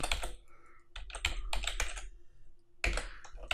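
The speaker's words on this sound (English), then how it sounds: "When I'm done typing, I can just click anywhere" Typing on a computer keyboard, close and crisp, with quick clusters of key clicks broken by short pauses and a final burst of taps.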